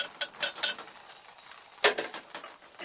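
A whisk clatters and taps against a pot of hot-process jewelweed soap, a few quick metallic clicks, then a pause and another burst of light scraping knocks, close and fairly quiet.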